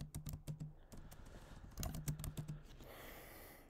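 Rapid keystrokes on a computer keyboard while TypeScript code is written, irregular bursts of close clicking with short pauses and a faint hum underneath, no voice.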